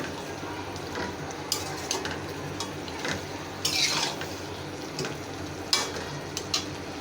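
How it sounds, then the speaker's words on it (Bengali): Chicken skin frying in a pan while being stirred, a constant sizzling hiss broken by repeated spatula clatters and scrapes against the metal. "চামড়াটা একটু নাড়াচাড়া করে দিব"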